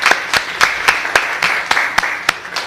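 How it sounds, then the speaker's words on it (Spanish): Audience applause following a talk at an academic panel on information access, a steady wash of clapping with several sharp, louder individual claps standing out at a regular rhythm, fairly close. "con esto le damos nuevamente un aplauso a Dante Cid."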